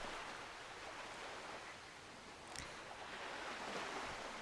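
Ocean waves wash steadily as a continuous broadband surf hiss, soft and even throughout with a slight swell near the end, no voices.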